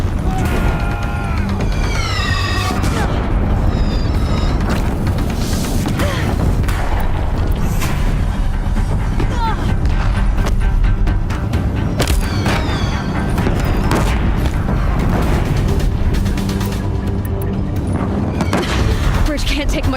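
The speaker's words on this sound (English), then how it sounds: "If the Deathbringers keep firing, this bridge will go." Deathbringer war machines in Horizon Zero Dawn pound a bridge with continuous loud booms and crashing impacts, layered over dense game music and effects, with a voice speaking at times.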